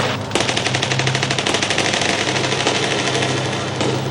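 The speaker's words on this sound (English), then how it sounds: "The Marines opened fire randomly." Sustained automatic gunfire from Marines firing after a suicide bomber attack, a loud, rapid and continuous rattle of shots that runs almost unbroken through the whole stretch, with no talking.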